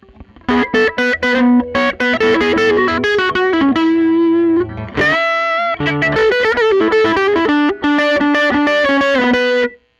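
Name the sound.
electric guitar tone being adjusted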